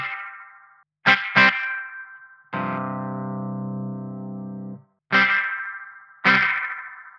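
Electric guitar played through an EVH 5150 Iconic EL34 15-watt amp with a push-pull single-coil tone in the middle pickup position: short bright plucked notes, then a long sustained chord ringing out, followed by two more crisp stabs, close and alone.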